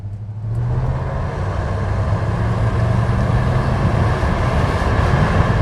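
A 1992 Ford F-150 pickup with a 5.0 V8 and 77K miles pulls away under acceleration, its engine drone building steadily and staying loud and continuous from inside the cab, with no talk over it.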